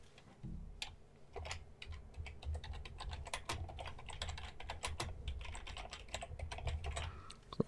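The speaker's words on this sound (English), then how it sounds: "right here, you hear me typing" Steady, rapid keyboard typing, close up, with irregular clicks and clacks running the whole time and no voices.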